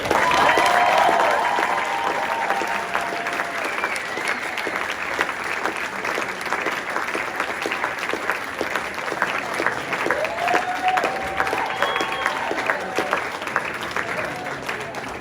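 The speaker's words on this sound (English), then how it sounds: "Can we just have another round of applause for all the songs?" An audience at a songwriting showcase claps and cheers in steady, sustained applause that stays loud and dense throughout, with a few scattered whoops over the crowd.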